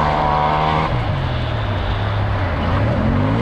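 A side-by-side UTV's engine exhaust drones loudly and steadily up close, its pitch dipping and then climbing again as the throttle changes.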